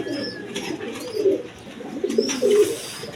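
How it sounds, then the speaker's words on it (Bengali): A Dauga pigeon coos close by in a few rising, throaty phrases, with faint chirps between them. "এটা ডাউগা কবুতর"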